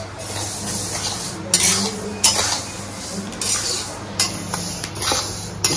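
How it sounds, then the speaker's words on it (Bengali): Sesame seeds and jaggery being stirred in a pan, a steady scraping and clinking of a spoon against metal with a few sharper clinks, close and fairly loud, no voices. "মানে এরকম নাড়াতে থাকতে হবে"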